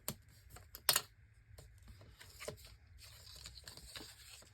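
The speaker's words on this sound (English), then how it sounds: "And then I'm going to burnish it again." Paper die-cut edges from a Tonic Studios tiffin box die set being burnished, heard as close, quiet scraping and rubbing strokes in irregular bursts with a few sharper clicks, no talk.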